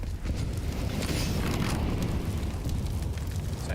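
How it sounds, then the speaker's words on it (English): A grenade detonates in Counter-Strike during a competitive esports match, a sustained roaring blast with a dense low rumble that holds steady for several seconds. "It's actually a pretty decent nade to begin with."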